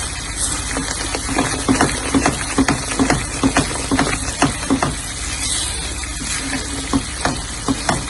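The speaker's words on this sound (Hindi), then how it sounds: "चम्मच का मुसलसल हिलाते हैं।" A spoon scrapes steadily through a thickening milk barfi mixture cooking in a pan, loud close rhythmic strokes repeating every half second or so over a continuous sizzle.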